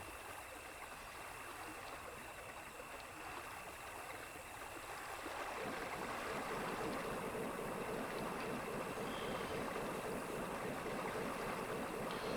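A river flows in the video game Hidden & Dangerous, giving a continuous rushing wash of water that starts moderate and swells noticeably louder about halfway through, with no talking.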